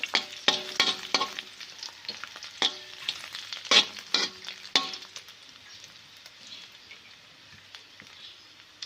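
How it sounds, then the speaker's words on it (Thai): Minced Thai garlic sizzles and crackles in hot oil in a wok, with close, busy bursts and occasional stirring scrapes that settle into a softer, steady fry toward the end. "เจียวกระเทียมให้หอมเหลืองนะจ๊ะ"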